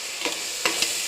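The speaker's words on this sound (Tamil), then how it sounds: "தக்காளி 2 சேர்த்து நல்லா வதக்கிக்குங்க." Tomatoes sizzle in a hot pan with a steady hiss, broken by a few soft stirring scrapes.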